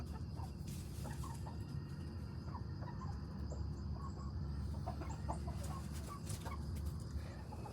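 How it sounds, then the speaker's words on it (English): Chickens pecking around a barnyard, scattered soft clucks and calls over a constant low rumble of background noise, moderately faint. "They're actually out picking around, doing what chickens are supposed to do"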